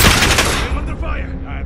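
Rapid automatic gunfire in Call of Duty: Modern Warfare on Rebirth Island, a loud, dense burst of shots at the start that quickly trails off into ringing echoes, with speech mixed in.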